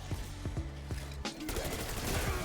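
Rapid bursts from a Grekhova handgun fire at a mangler in Black Ops 6 Zombies, a quick series of sharp, close shots followed by a denser wash of impacts and chaotic game noise, with no talk over it.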